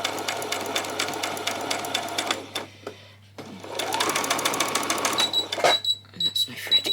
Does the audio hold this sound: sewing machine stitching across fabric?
yes